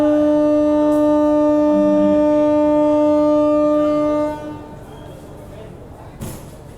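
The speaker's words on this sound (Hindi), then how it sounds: "ट्रेन अपनी डिपार्ट कर चुकी है मऊ जंक्शन से" The Mau–Anand Vihar Superfast Express sounds a long, loud, steady horn for about four seconds while departing Mau Junction, then cuts off, leaving quieter station and train rumble.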